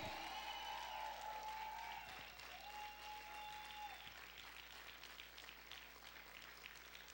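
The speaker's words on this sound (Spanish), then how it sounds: "¿Cuántos pueden aplaudir fuerte al Rey?" A church congregation claps together, the applause steady and fairly distant, tapering off slightly toward the end.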